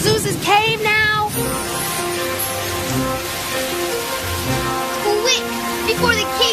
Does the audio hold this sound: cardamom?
no